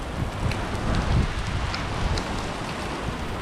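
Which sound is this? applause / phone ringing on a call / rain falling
rain falling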